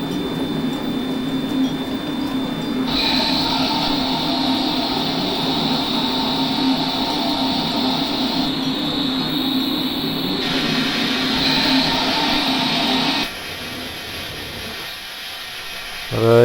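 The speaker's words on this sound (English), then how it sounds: "The like ambient rolling is a little overpowering, I think. You can almost hear it over the sound of the locomotive." NZR ballast wagons and a locomotive rolling in Train Simulator Classic: a loud, steady rumble of wheels on track with shifting tonal hum and brief metallic squeal, dropping abruptly near the end.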